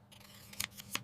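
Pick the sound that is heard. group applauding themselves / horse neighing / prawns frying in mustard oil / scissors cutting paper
scissors cutting paper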